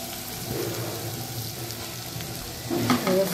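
Curry leaves, chili and finely chopped onion sizzle in a pan with a pinch of asafoetida, a continuous close frying hiss with brief stirring clatter that grows busier toward the end.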